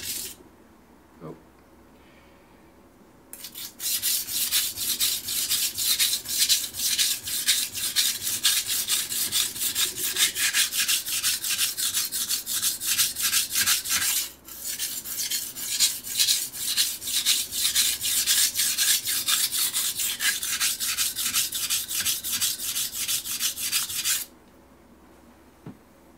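A knife being sharpened on a coarse Shapton Pro whetstone, with two long runs of rapid back-and-forth rasping strokes, close and steady, separated by a brief pause and framed by quiet moments.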